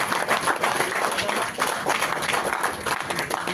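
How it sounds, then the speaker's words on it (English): An audience claps for race finishers at a military training camp, a dense, steady patter of many hands from a crowd that keeps going the whole time without a break. "Give yourself a good clap, ladies and gentlemen."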